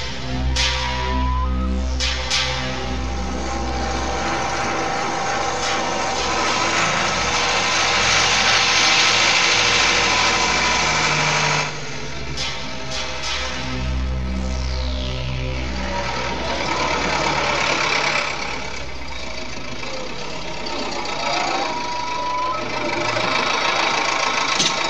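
A vehicle engine idles with a continuous, fairly loud throbbing drone that eases briefly midway, then settles back into a steady rumble.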